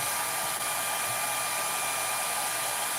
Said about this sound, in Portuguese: eu coloco o secador, a minha ganache derrete, mas ela não escorre, tá?